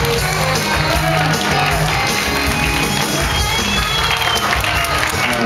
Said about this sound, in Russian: Виктор Вячеславович, аплодисменты ваши, друзья мои